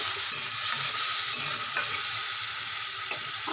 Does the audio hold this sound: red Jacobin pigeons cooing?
no